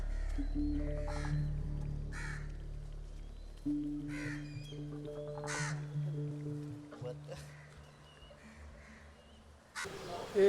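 Crows caw repeatedly at a spot where meat scraps are thrown for kites and crows, harsh calls coming in separate bursts over a low steady hum, with a louder clatter at the end.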